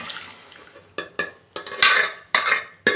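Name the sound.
adding cooked lentils to pan and mixing moringa dal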